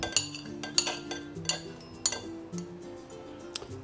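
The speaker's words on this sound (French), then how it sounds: "Dans un bol, je vais mélanger l'ail avec les capres" Garlic, capers and anchovy are mixed in a bowl with a utensil, producing a handful of light clinks and taps against the bowl at irregular intervals, quiet and close, over faint background music.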